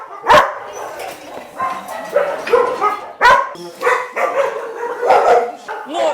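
Several dogs at an open-air animal shelter enclosure in Kryvyi Rih bark loudly and repeatedly, sharp overlapping barks and yips close by, with some whimpering between them.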